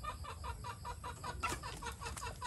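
Texas chickens in their coops in a quiet countryside yard cluck in a quick, steady run of close clucks, with one louder squawk midway and no talk.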